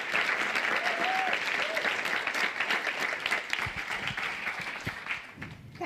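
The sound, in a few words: audience applause welcoming speakers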